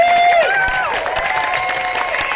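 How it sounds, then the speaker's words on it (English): A crowd at an outdoor 2021 Pride flag raising applauds and cheers, loud clapping with whoops and sustained tonal shouts rising and falling over the patter. "Let me get a huge round of applause for all of you"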